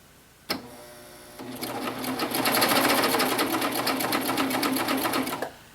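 A sewing machine running a cover stitch on a tee, starting with a click then a steady fast rhythmic whirr that runs for several seconds before stopping abruptly, close and alone.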